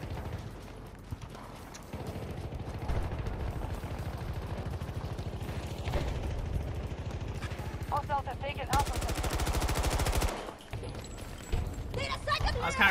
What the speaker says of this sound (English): Oh, there's shots over this way.